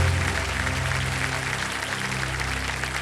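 Studio audience applause on the Kaun Banega Crorepati game show set, a steady, dense wash of clapping filling the room for about three seconds, loud and continuous without any talk over it.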